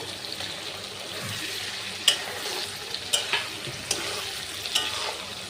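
Fried potatoes stirred into cooked-down spice masala with ginger paste in a pan: a soft, steady sizzle broken by a few sharp spoon scrapes and clicks, close and fairly quiet, with no voices.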